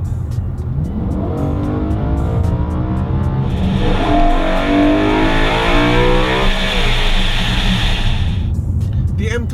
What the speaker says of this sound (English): what makes the M3 so great is that high revving monster of a V8